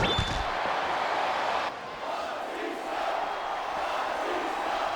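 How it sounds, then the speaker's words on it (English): A capacity crowd at a WWE wrestling arena roars and shouts in a dense, steady wall of noise, loud and continuous for the whole stretch with no clear voices standing out. "This capacity crowd is making their opinions known tonight."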